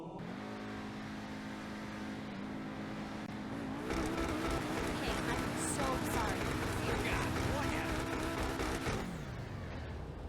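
The engine of the Weaponized Ignus supercar in GTA Online idles with a steady hum, then revs hard into a loud, sustained high-pitched roar before dropping back, with no voices over it.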